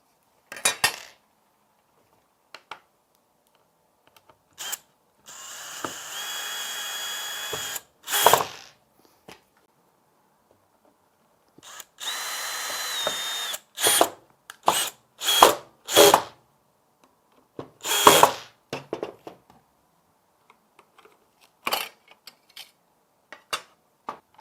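A power drill drives screws into the cladding of a glazed door fitted with a glazing cassette system, coming in several short whirring bursts separated by pauses, with light clicks and tool clatter between them, close and fairly loud.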